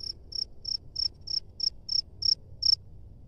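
A steady series of about nine clear, regularly spaced chirps comes from a cricket underground in a rice-field burrow. It is close and distinct over a faint low outdoor hum.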